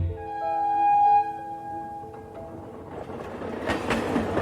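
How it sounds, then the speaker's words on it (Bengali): Train noise at a railway station at night: a sustained tonal horn-like blare rings first, then fades into rumbling rail noise and rattling clatter of a passing train, moderately loud and alone. "জোরে একটা ট্রেনের হর্নের আওয়াজ এলো"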